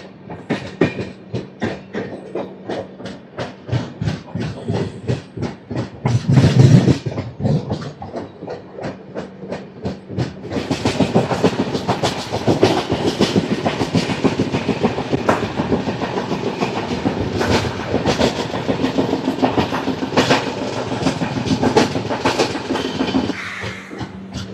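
The Janmabhoomi Superfast Express, running from Visakhapatnam to Lingampalli, pulls out of Tadepalligudem station with loud rhythmic clickety-clack of wheels over rail joints, building into a dense, steady rolling roar as speed rises.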